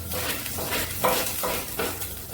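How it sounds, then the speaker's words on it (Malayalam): Ginger and garlic frying in about a spoonful and a half of oil for fish momos, a steady sizzle with occasional stirring scrapes and clinks of a spoon against the pan. "അതിലേക്ക് നമ്മൾ ആദ്യം ഇടേണ്ടത് ഇഞ്ചി, വെളുത്തുള്ളി ആദ്യം ഇടാം."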